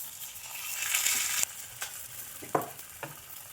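A paratha sizzles and fries in a pan over a gas flame at low to medium heat, a steady close crackle with a few sharper pops and scrapes.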